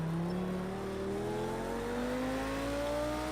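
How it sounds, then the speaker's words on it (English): Lamborghini GT3 race car engine in Project Cars 2 revving and climbing steadily through the gears at Catalunya, a loud continuous whine rising in pitch with no talk over it. "Great sound from this Lamborghini."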